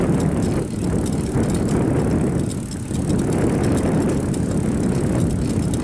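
Bicycle drivetrain whirring and ticking as the pedals spin during an organised rail-trail group ride, a loud continuous rush with wind and road noise close to the microphone.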